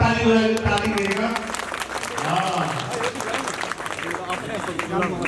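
Crowd applause welcoming new members at a Nepali Congress election rally, steady dense clapping under someone speaking over a loudspeaker, lasting several seconds.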